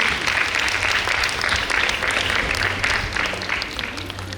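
An audience at a college girls' hostel freshers' day breaks into loud, sustained applause, dense clapping that holds steady and fades slightly at the end, with a faint crowd murmur beneath.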